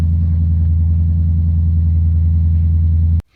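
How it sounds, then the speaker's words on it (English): A car engine idling with a steady low rumble, close and constant, cutting off abruptly near the end. "So let's start the car."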